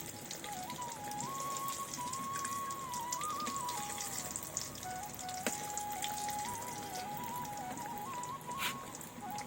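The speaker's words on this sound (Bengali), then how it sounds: "একটা একটা করে সব ভেজে উঠছে" Gaja sweets frying in hot oil, a faint, continuous crackling sizzle with a thin steady whistle-like tone running through it and no talking.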